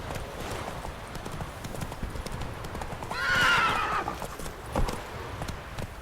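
A horse gallops in The Witcher video game, its steady clip-clop hoofbeats running throughout, with a loud whinny midway over a faint game background.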